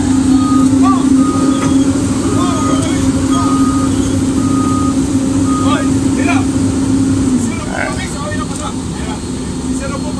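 Trucks reversing with a steady backup beeper pulsing for most of the time, under loud engine rumble and someone talking, the beeping stopping near the end while the motor noise carries on.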